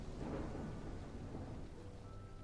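Rain and rolling thunder in the Coreborn survival game, a dense, low rumbling wash of steady rain with a deep thunder swell early on, continuous and fairly soft.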